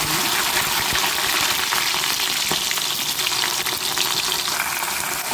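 Okra, shallots, dried chilli and curry leaves frying in coconut oil for sambar, a loud constant close-up sizzle with faint crackles and occasional stirring scrapes, no voices.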